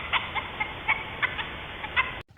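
A cartoon chicken clucks in a run of short, bright, repeated clucks at an uneven pace, fairly close and clear, with no talking.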